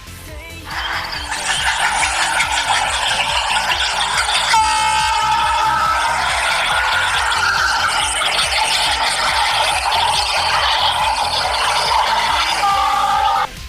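A train rumbles steadily with rhythmic clatter as a loud horn sounds over it for several seconds.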